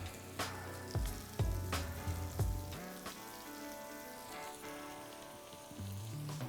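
Shaved steak hits a hot pan for Philly cheesesteaks, giving a steady close sizzle and frying hiss with several sharp clanks and stirring knocks, with no one talking.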